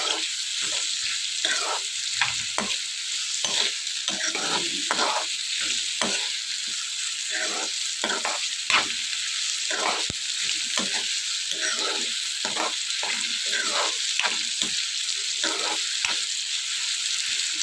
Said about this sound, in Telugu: ఆనియన్స్ మొత్తం అన్నీ కూడా మగ్గేంత వరకు వేయించుకోవాలి